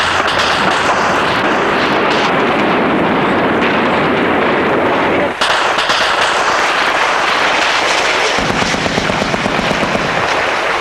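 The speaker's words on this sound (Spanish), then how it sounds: "Se había hecho muy intenso el bombardeo terrestre." Ground bombardment during the final hours of Salvador Allende's government in Chile: dense, loud, continuous artillery and gunfire crackle throughout, with rattling bursts and heavy booms and no clear pauses.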